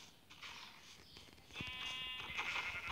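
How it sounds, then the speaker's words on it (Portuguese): Sheep bleat in a Minecraft-style survival game, with a couple of close, wavering bleats, the second longer and louder, over a soft game background with no talk. "Tem bastante ovelha aqui, dá pra pegar e fazer uma cama."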